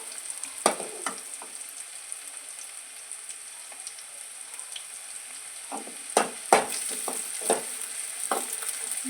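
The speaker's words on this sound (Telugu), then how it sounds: "ఒక ఆనియన్ వేసానండి. ఇప్పుడు ఫ్రై చేస్తున్నాను." Sliced onion frying in about five spoons of hot oil, producing a constant gentle sizzle broken by several sharp stirring scrapes and clatters near the end, with no voices.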